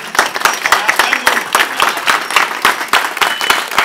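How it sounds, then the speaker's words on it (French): Audience applause after a film screening in Valenciennes, dense close clapping with distinct sharp individual claps, loud and continuous throughout. "Je crois qu'on peut l'applaudir encore une fois."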